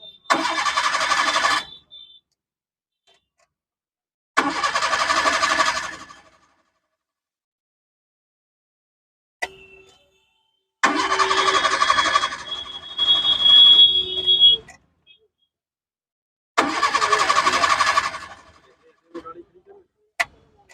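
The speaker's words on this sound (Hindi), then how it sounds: "तो गाड़ी को स्टार्ट करते हैं" A 2021 Maruti Suzuki Eeco with a misfiring engine, weak pickup, vibration and hard starting is cranked several times. The engine gives repeated loud bursts of a few seconds each, separated by silence.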